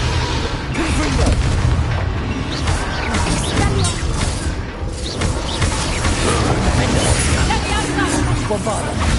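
A Confringo fire spell blasts in Hogwarts Legacy, with loud, dense booming bursts that run continuously, mixed with other battle noise and under voices shouting.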